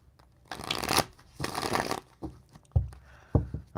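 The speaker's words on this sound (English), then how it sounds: "I'm going to shuffle them now and get them ready." A Light Years card deck being shuffled by hand, two long riffling bursts followed by several short taps and squaring knocks, close and clear with no talk.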